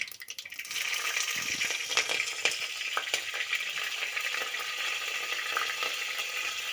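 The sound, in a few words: cumin and green chillies frying in oil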